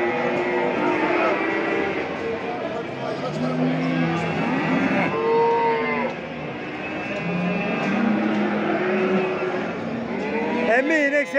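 Cattle moo repeatedly at a busy Çorum livestock market, with several drawn-out calls from nearby cows rising over steady crowd chatter and voices.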